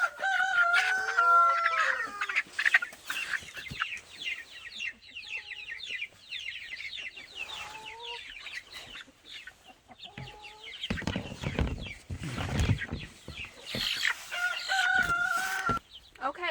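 Chickens in a hoop coop cluck and crow close by, with a rooster's crow rising above layered clucking and squawks that carry on continuously and fairly loud throughout.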